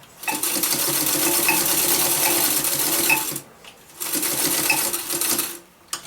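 An industrial sewing machine stitches close along the edge of a croc-pattern bag near a zipper, running in two steady bursts of several seconds each with a brief pause between, near and alone.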